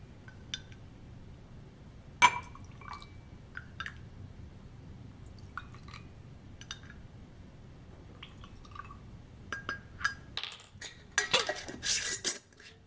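Spoon clinks against glass as cabbage juice is measured into four glasses, with scattered light taps and drips at first, then a denser flurry of clinks near the end, no talking.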